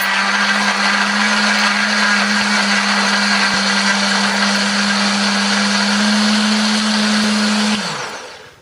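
A blender grinding spice paste with a little water runs loud and steady for about eight seconds, its motor whirring with a grinding hum, then winds down at the end.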